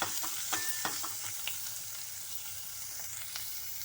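Mustard seeds, urad dal and cumin sizzle in hot ghee for a tempering, a steady close frying hiss with scattered crackles, pops and stirring scrapes, no voices.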